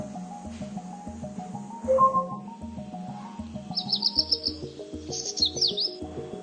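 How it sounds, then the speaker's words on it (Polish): Recorded Polish bird song, with several short clear chirps and whistled phrases sounding over a soft musical backing of repeated tones. "Poproś ptaki polskie, żeby zaśpiewały."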